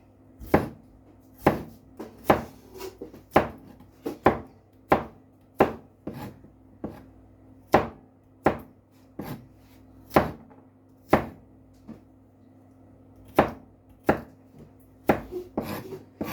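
A knife chops garlic on a board for an oven-baked fish and attiéké dish, with about two dozen crisp, close, irregularly spaced strikes, some quick pairs, and no talking.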